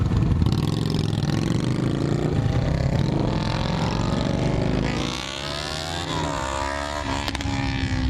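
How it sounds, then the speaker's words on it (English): Motorcycle engines at a fire company motorcycle breakfast, a loud continuous rumble of several bikes idling and revving nearby, the pitch swelling and falling as they roll past. "Love the sound of those engines."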